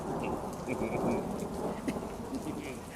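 Rain pours steadily at night while thunder rumbles low underneath, the downpour dense and continuous with scattered brighter drops and no voices.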